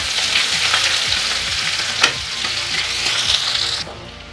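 Sliced onions sizzle steadily in a hot pan over lowered gas while being browned for a spicy egg curry, a loud close frying hiss with occasional stirring clinks and no talk.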